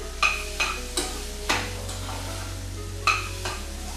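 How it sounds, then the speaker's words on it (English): Lentils stirred in a pan for a tomato and pepper dhal give a soft frying hiss under repeated metallic scrapes and taps of a spoon against the pan, close and clear, no speech. "I'm going to add my lentils. It's important you stir these so they don't stick to the bottom of your pan."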